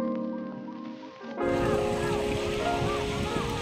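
Sea waves washing onto the beach at La Union, a steady broadband surf roar with some wind, starting quieter and swelling into continuous wash for most of the stretch.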